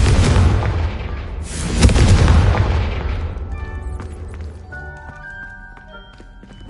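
In Hogwarts Legacy, a Confringo blasting spell goes off as a loud booming explosion with a second heavy blast, then a long rumbling decay fading into faint ringing debris and tones.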